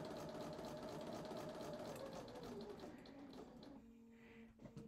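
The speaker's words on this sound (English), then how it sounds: "I am going to sew" A sewing machine stitching quilt fabric for a spool block, a steady close mechanical whir of rapid needle strokes that slows and stops near the end, with no speech.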